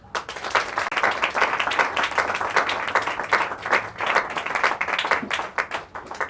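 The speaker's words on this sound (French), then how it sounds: "nous vous demandons d'applaudir le chef de l'État" Audience at a political general assembly of a federalist alliance in Kinshasa claps steadily for the head of state, a dense, sustained burst of applause with a few louder swells, no talk over it.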